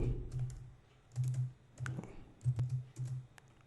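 Bursts of typing on a computer keyboard while writing a C star-pattern program, with clusters of quick close key clicks separated by short pauses, fairly quiet.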